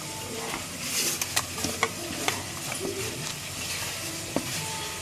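Sliced spleen fries in a pan with onions, a steady soft sizzle underneath while a utensil stirs and taps, giving a few sharp clicks against the pan.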